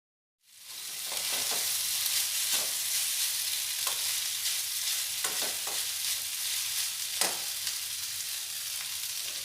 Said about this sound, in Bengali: দিয়ে পাস্তাগুলো সবজির সাথে নাড়াচাড়া করে খুব ভালোভাবে মিশিয়ে নেব।